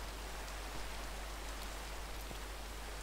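Steady rain falling in the Minecraft video game, an even, continuous hiss of drops at low level with no voices over it.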